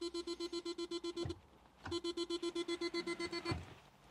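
Rapid, evenly spaced ticking from the small indicator speaker of a Jaguar XK8 on hazard warnings, close and clear, running in two bursts with a short gap between them.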